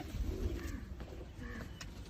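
Pigeon of a Kamagar breeder bloodline coos softly, a few low rounded calls spaced across the clip against a quiet, slightly rumbling background.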